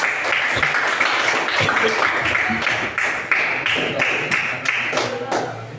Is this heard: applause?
yes